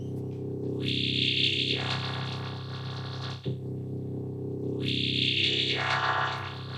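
A sustained, buzzing synthesizer drone from a wavetable feedback loop, with bright, distorted upper tones that swell in twice, steady and loud with no voices.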